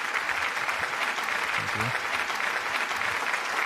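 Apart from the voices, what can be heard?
audience applause for guests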